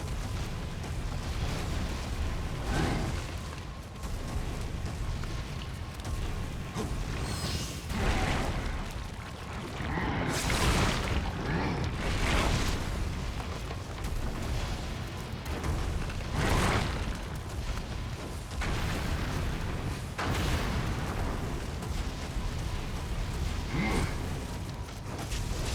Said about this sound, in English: Bombs at him.